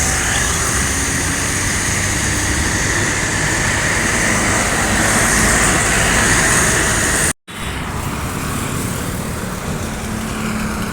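Buses roar past on a highway heading toward a toll gate, a loud, continuous engine and road drone close to the roadside with a brief dropout partway through.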